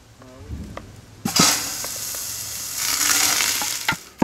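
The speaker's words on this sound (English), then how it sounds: "I'm going to make sure you break it all apart and get it well browned" Couple pounds of ground meat hitting a pot and starting to brown for a smoky fireside beer chili, with a burst of sizzle and scraping as it's broken apart, continuing steadily and fairly close.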